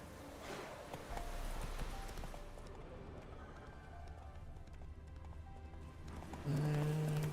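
Hooves of Roach, a horse in The Witcher 3, clopping at a steady running pace beneath ambient game sound, fairly quiet, with a brief tonal sound near the end.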